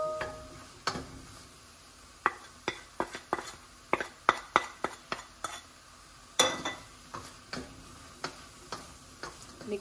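Spices and salt are stirred in a pan, with a run of sharp spoon clicks and taps against the metal, fairly faint, plus a few louder knocks near the end.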